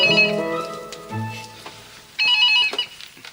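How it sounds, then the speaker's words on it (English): Telephone ringing while calling a school, two short bursts of ringing tone separated by a pause, fairly faint and alone. "First, I'm telephoning the school to let Miss Fortune know what's happened"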